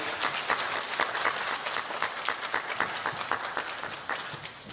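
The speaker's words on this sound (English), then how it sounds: "Let's give them one more big round of applause." Audience applause at an elementary school student recognition ceremony: dense, steady clapping from many hands, sustained at an even level throughout without a break.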